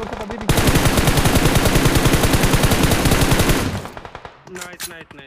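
Rapid automatic gunfire in the mobile battle-royale game Battlegrounds Mobile India, a loud continuous burst of dense shots lasting several seconds, then a few scattered quieter shots as the barrage stops.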